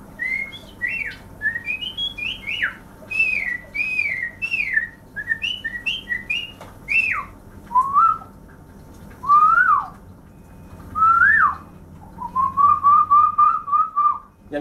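A man imitates bird calls, whistling a run of quick chirping trills followed by longer rising and falling notes, close and clear.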